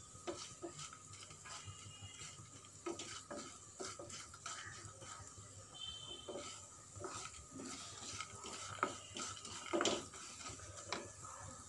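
Ajwain and cumin seeds are dry-roasted in a pan while a utensil stirs them, with soft scrapes and taps and a faint crackle over a quiet background, close by and without talk.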